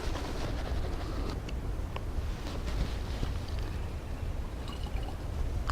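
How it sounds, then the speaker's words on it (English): Metsulfuron herbicide poured into a water mix for a forestry splatter gun, a continuous close liquid trickle and splash with a few small drips and clinks, no talking. "Pour the metsulfuron in."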